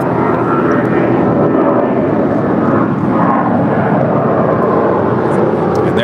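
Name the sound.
Asiana Airlines Airbus A350-900 coming in to land at LAX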